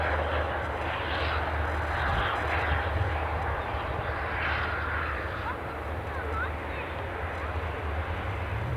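An aircraft departs from Edinburgh Airport as a continuous low engine rumble with fluctuating roar, fairly faint and steady, with a voice speaking over it.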